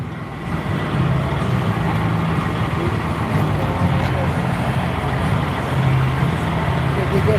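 A truck motor idles in a constant loud, low rumble at an outdoor convoy rally, running steadily under faint crowd noise and voices.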